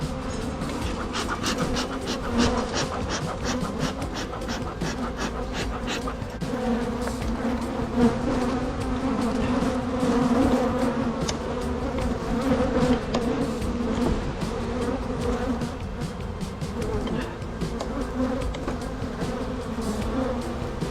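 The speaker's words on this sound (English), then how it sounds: "Oh, the bees are pissed." Agitated honey bees at an opened beehive make a dense, continuous buzzing swarm drone, steady and close throughout, with no talk over it.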